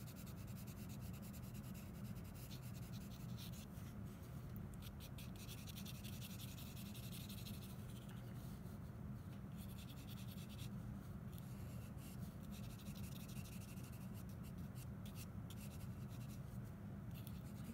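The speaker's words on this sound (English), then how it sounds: "Switch over to our white charcoal pencil" White charcoal pencil scratching and rubbing steadily across paper while adding highlights to a drawn fabric study, a close, continuous dry stroking that runs alone without pause.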